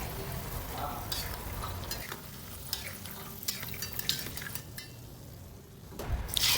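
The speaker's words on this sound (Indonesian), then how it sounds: "Jadi ini proses penggorengannya harus sabar sih goreng ini" Peanuts fry in a pan for Indonesian ketoprak, a steady sizzle with scattered clinks and stirring scrapes of a utensil against metal, moderately quiet, with no talk.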